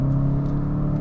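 Volkswagen Jetta GLi 2023 engine on the Circuito Panamericano race circuit, a steady low-rpm drone with a strong, even hum that holds unbroken through the short span.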